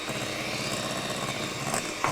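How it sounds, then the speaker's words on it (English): An electric whisk runs steadily through egg whites and castor sugar for a pavlova, making a constant close motor whir for about two seconds with no pauses or voices. "That then needs whisking for another couple of minutes"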